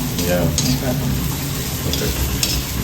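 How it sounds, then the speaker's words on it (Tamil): Chana dal, urad dal, asafoetida and dried chillies roasting in a pan, a soft steady crackle with a few brief scraping stirs over it. "இந்த கடலைப்பருப்பு, உளுத்தம்பருப்பு, பெருங்காயம், மிளகாய் வறுத்துட்டேன்."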